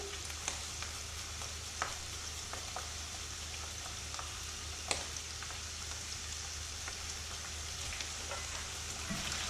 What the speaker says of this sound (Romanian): Amestecăm în continuu pentru ca usturoiul să nu se ardă.